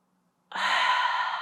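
Deep breathing during a yoga session: a single long, close, airy inhale begins after a moment of silence and holds steady to the end.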